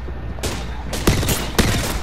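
Gunfire in a video-game firefight: a steady rattle of shots with several louder, close bursts that stand out at irregular intervals.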